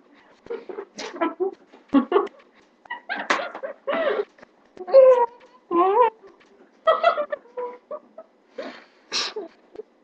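A dog whimpers and yips close by in short, high, repeated bursts, with brief pauses between each cry.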